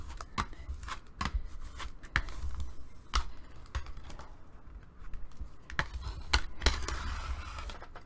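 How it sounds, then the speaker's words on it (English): Artisan cardstock being burnished by hand with firm pressure, giving a series of close, sharp scraping and tapping strokes at an uneven rhythm, with no talking. "I'm pressing pretty hard because I'm using the Artisan cardstock, so I can do that. Move it down and keep burnishing it down."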